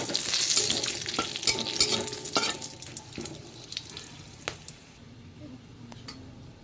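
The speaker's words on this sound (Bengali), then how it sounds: "চিংড়ি মাছ ভাজার তেলের মধ্যেই আমি গোটা গরম মশলাটা দিয়ে দিলাম, আর শুকনো লঙ্কা, তেজপাতা, এই গেল ফোড়নে" Whole garam masala, dried red chillies and bay leaves hit hot oil left from frying prawns, giving a sharp sizzle that fades over a few seconds. Scattered clicks of stirring in the pan punctuate it.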